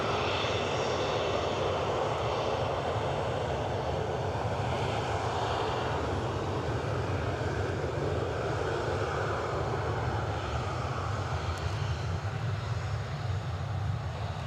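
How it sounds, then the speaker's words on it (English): A Jet2 Boeing 737 arriving from Zakynthos roars under reverse thrust on landing, a loud, sustained broadband rush that holds steady throughout with no breaks. "Absolutely gorgeous noise being kicked up from those reverse thrusters on the Jet2 737"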